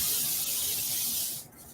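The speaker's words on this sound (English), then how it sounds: "I'm going to spray these tortillas right here on the cookie sheet" Vegetable oil spray hisses onto tortillas laid on a cookie sheet, one steady close-up burst of airy mist that cuts off near the end, with no talking.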